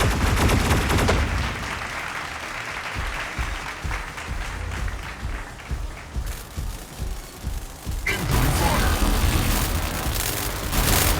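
Mech Arena disc launcher fire: dense, loud, noisy bursts of launches and impacts with a rumbling throb beneath, a brief thinner lull mid-way, then a sharp renewed blast of fire continuing to the end.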